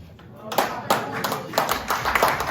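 Congregation clapping together during a church worship service, a dense run of sharp claps swelling in a few loud surges with voices mixed in.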